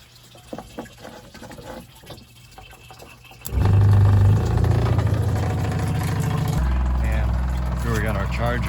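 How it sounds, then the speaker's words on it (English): A small automatic maple sap pump kicks on with a loud, steady motor hum and churning liquid flow, preceded by a few faint clicks and handling noises while a voice talks quietly. "Okay, let's turn our pump back on here."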